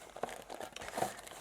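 Old, decades-aged tape being carefully peeled and opened on a vintage Zoids toy box, giving soft crinkling and crackling bursts, close and fairly quiet, with no talking.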